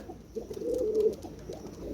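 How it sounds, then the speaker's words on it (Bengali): A male teddy pigeon of the Pakistani teddy breed coos in a low, throaty burst that swells through the middle and fades, heard close and alone with no talking. "পিয়ার্স নটটা অনেক ডাকে"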